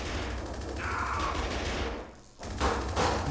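Rapid gunfire rattles through a battle in South Park: The Stick of Truth, a sustained burst of shots that briefly drops away before sharp reports resume, loud and close.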